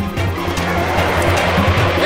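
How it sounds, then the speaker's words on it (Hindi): A car driven hard and fast, its engine loud and close with a rising, whining roar and a brief squeal of tires sliding on the road surface. "आराम से चलाइए, ये कार है, ये हेलीकॉप्टर नहीं है।"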